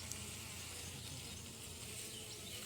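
Honey bees buzz steadily and densely around an open hive during a honey harvest in the fields, a continuous close swarm hum with no talk.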